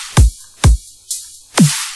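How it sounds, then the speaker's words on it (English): A classic dubstep drum pattern plays alone: two heavy kick thumps, a bright snare-like crack, then a lower pitched hit, at a slow half-time pace. "Classic dubstep rhythm there."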